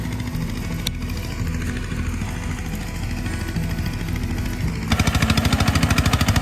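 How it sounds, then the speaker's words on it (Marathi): A tractor ploughing a flooded paddy field in Konkan for rice planting, its engine running steadily and close by, turning into a faster, louder rhythmic chugging near the end. "पण आता ही ट्रॅक्टर जोडी आहे आय मीन ट्रॅक्टर आहे"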